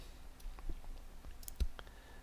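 A handful of quiet, sharp clicks from a computer mouse pressing a submit button, spaced irregularly against a low, quiet room background.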